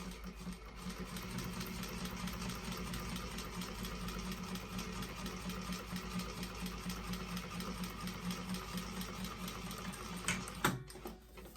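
Sewing machine stitching a leather tote bag, a steady rapid mechanical whirr with rhythmic needle ticking held at even volume, close and alone, ending in a brief clunk as the machine stops.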